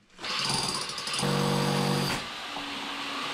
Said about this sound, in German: Und jetzt werde ich anfangen, hier großzügig zu bohren.